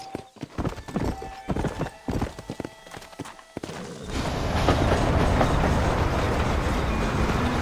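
Horse hooves clip-clop with a wagon in the Western video game Red Dead Redemption, first as irregular distinct steps, then giving way to a dense, steady rumbling roll of wheels and hooves.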